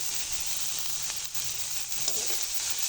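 Chicken momo filling with coriander being stir-fried in a pan, giving a steady soft sizzle with faint scraping as it is stirred, no voices.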